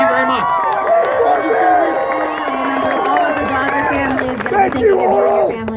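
Large crowd of Dodger fans gathered for Orel Hershiser, cheering and shouting in a loud, sustained roar with overlapping voices and chatter throughout.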